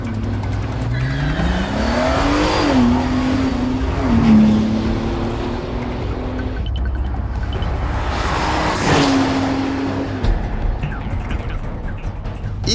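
A 2013 Bentley Continental GT Speed's engine roars as it launches and accelerates hard with all-wheel drive, pitch climbing through gear changes, then surges again; loud and continuous, close to the microphone.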